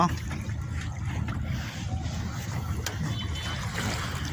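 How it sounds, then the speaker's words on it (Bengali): Water sloshes and laps against a boat crossing the Padma River over low rumbling wind noise, a steady churning wash from nearby, with no clear speech. "ঢেউ চলছে।"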